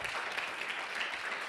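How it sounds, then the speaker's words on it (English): An audience claps and snaps fingers after a poetry reading, a dense, even patter of hands that holds steady through a brief stretch with no voices over it. "Got some claps. I got some snaps."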